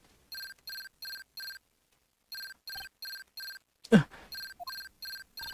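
A transceiver in Phoenix Wright: Justice For All rings in repeated bursts of four short electronic trills, pauses, then rings again, with a brief sharp knock in the middle of the ringing.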